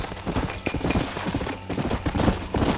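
Horses clip-clop in Red Dead Redemption, a steady run of hoof strikes over a busy, dense game mix with scattered sharper knocks, loud and continuous throughout.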